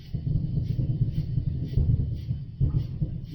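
Distant Independence Day fireworks rumble as a steady low thunder-like roll, with soft repeated booms swelling and fading over a few seconds, no voices.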